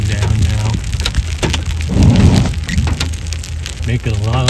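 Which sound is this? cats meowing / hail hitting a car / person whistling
hail hitting a car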